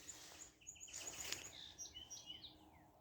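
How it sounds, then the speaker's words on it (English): Spring morning birdsong chirps faintly in the distance, a few short repeated calls and tweets over quiet outdoor hiss. "Birds are singing. Spring is a-coming."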